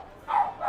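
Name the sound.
dogs barking in the background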